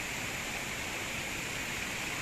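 Spring water pours steadily into a stream, a continuous broadband rush of splashing and flowing water, close and even throughout with no voices.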